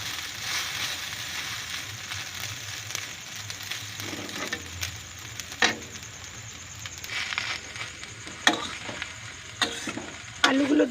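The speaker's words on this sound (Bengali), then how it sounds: "এবার একটু ভেজে নেব।" Soaked chow mein noodles fry in a home kitchen pan with potatoes, tomatoes and onions, a steady close sizzle broken by scraping stirs and sharp clinks of a utensil against the pan.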